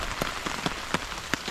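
Heavy rain pours down on a solo campsite under a yellow weather warning, beside a partly rigged tarp: a dense, steady hiss broken by sharp, close drop impacts landing every few tenths of a second.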